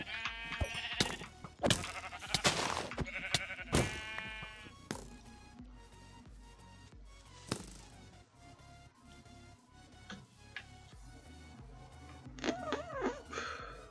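Sheep bleat in the Minecraft video game, several repeated bleats spread across the stretch over background game sounds and clicks, fairly loud and close.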